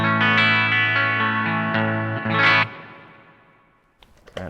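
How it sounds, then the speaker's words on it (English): Clean electric guitar run through a Vahlbruch Pipeline spring reverb pedal: a few plucked notes and chords, then a sustained chord that decays slowly into a lingering reverb tail, followed by a few quiet string taps. "And this is what the Pipeline sounds like."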